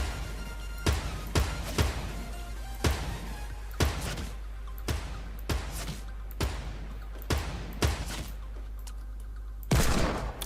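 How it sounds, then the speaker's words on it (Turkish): Sniper rifle shots in the online shooter game Zula, a series of loud sharp cracks spaced about a second apart with a denser burst near the end, no talking. "Abi sıkıyorum bu sniper lan"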